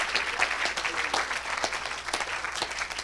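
An audience claps through a church gathering, a continuous patter of many hands at moderate distance, steady and even without pause.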